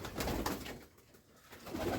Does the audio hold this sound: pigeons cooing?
yes